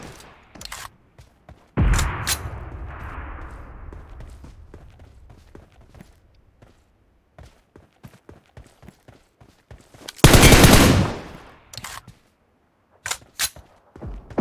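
Scattered sharp Mini14 rifle gunshots in PUBG Mobile, some single and some in quick bursts, a few loud and close, others faint and distant, with no speech.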